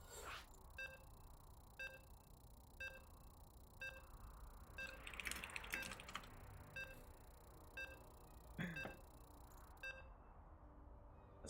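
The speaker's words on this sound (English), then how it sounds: "As the players are ready, we're loading on in. You can hear the beeps." Soft electronic video game beeps chime at a steady interval as players load into a competitive match at a monthly tournament cup, quiet and clean with a brief burst of other noise midway and no talking.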